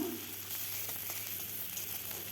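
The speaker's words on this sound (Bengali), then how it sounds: "মাছ ভাজার তেলে আরেকটু তেল দিয়ে দিলাম আমি পেঁয়াজ কাঁচা লঙ্কা দিয়ে দিলাম" Sliced onion and green chillies frying in oil reused from frying fish, a steady close sizzle with a few faint crackles, heard alone.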